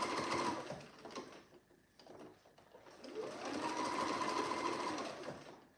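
A basic home sewing machine stitches fabric for a roll-neck add-on to a T-shirt, running in steady mechanical bursts with a short pause midway and then a longer continuous run.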